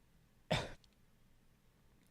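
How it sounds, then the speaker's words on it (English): A single sharp cough from a person, loud and brief, followed by near silence and a faint short sound at the end. "Okay, Chio's coughing."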